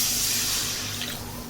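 Water pours steadily from a container into a cooking pan of tomato cooked in oil, making a continuous rushing splash with no voices.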